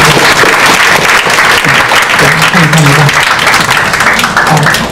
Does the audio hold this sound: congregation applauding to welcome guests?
yes